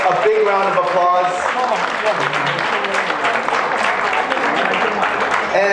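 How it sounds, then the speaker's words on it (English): A room full of people applauds a fundraising team at a community gathering, a steady wash of clapping that follows a voice at the start and holds on evenly. "Let's give Judy and the fundraising team a big round of applause"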